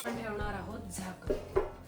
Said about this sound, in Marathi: आपण ठेवणार आहोत झाकण.